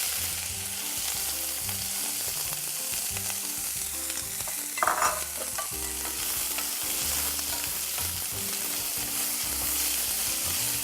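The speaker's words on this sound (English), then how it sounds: "Stir it quickly because you don't want the onion to burn." Chopped onion sizzling in a pan of garlic-infused olive oil, a loud continuous fry close up with brisk stirring scrapes and one sharper burst partway through, no voices.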